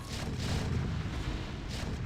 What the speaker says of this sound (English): Spud launcher.